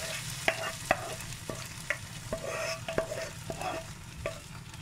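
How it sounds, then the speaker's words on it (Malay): Sautéed ingredients being poured and stirred into tomato rice cooking in a rice cooker, a soft sizzle with scattered scraping and tapping clicks, fairly quiet and close, with no talking. "Jadi saya tuanglah bahan yang saya tumis tadi."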